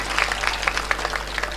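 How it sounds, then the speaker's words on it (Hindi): Applause from an audience at a ghazal recital, dense clapping with scattered sharper claps, steady and moderately loud throughout, with no voices over it. "एक बार जोरदार तालियां बजाओ"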